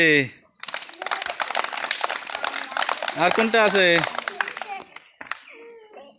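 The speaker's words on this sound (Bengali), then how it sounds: "জোরে তালি হবে।" Children clap in a temple-based class, with quick rhythmic claps mixed among their loud, overlapping voices.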